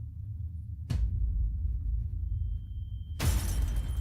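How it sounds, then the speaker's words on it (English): A sudden impact against a plate of glass in the film Bird Box, a sharp crash at about one second and a second burst near three seconds, over a low steady rumble with no talking. "Headbutting right into the plate of glass."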